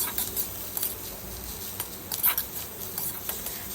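Onions fry in oil in a pan as they are stirred for a ridge gourd bhaji, with soft sizzling and scattered spatula taps and scrapes, fairly quiet and without talk.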